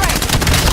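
Sniper fire in a first-person shooter match: a short, loud, dense burst of crackling shots packed into under a second, close and harsh.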